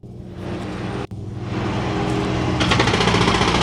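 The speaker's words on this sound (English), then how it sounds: "and as you saw, the jackhammer" A loud jackhammer on a Bobcat skid-steer loader pounds steadily into concrete with a rapid, harsh hammering that briefly cuts out, then resumes more intensely with the vehicle engine running nearby.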